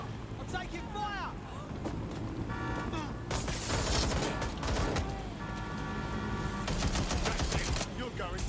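Gunfire in the video game Watch Dogs Legion: a dense, sustained clatter of rapid shots and bursts amid a busy game mix, with a voice shouting over it.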